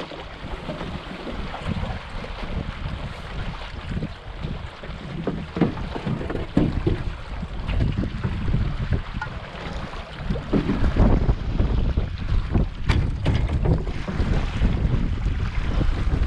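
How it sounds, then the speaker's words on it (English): Strong wind roars and buffets the microphone continuously, a loud rushing noise with no speech. "Pretty windy."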